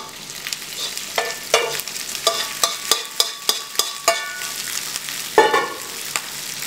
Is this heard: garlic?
yes